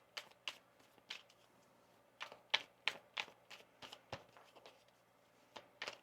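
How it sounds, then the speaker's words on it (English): A deck of tarot cards is shuffled by hand in quiet surroundings, giving irregular crisp riffles and taps in short bursts with pauses between, close and fairly soft. "One more shuffle here."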